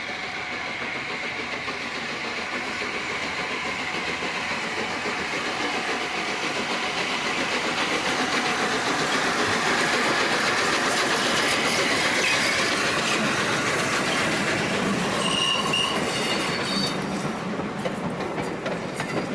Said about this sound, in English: Blue Peter returned to Bradford to take over another northbound train, destination Carlisle once again